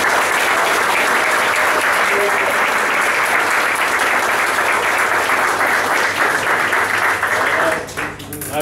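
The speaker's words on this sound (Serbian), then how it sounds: "jedan aplauz" A crowd of children and adults claps steadily and loudly for a visiting black-belt guest at an aikido and ju-jutsu grading in a club hall, dense unbroken applause that tapers off at the very end.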